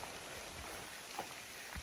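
Steady rain falls in a forest during a wild boar tracking trek, a soft continuous patter with a few louder drops, close and alone with no voices.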